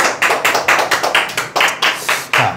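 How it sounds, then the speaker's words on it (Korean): A small seminar audience claps in a slow, even rhythm, about a dozen distinct loud claps spaced evenly, close and clear with no talking. "자, 박수."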